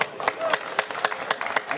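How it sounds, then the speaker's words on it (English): A crowd of students applauds at a school kick-off event, scattered claps rising over a broad wash of hand noise with some talking mixed in, moderately loud and close, lasting a couple of seconds. "Let's all give him a round of applause."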